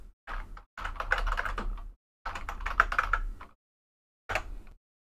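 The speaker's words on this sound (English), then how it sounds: "Did you type it right, Rem?" Quick bursts of computer keyboard typing, three separate runs of rapid key clicks with short pauses between them, close and fairly loud.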